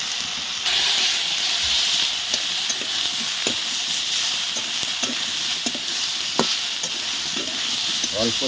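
Vegetables with tomatoes fry in a large wok with little oil: a loud, constant hissing sizzle fills the scene, broken by frequent sharp scraping and stirring clicks.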